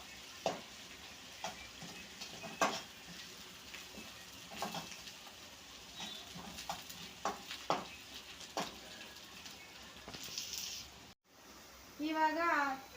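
Onions fry in a pan for paneer butter masala, with a soft, steady sizzle under irregular clicking and scraping stirs, a brief near-silent gap, then a louder burst of sizzling at the end.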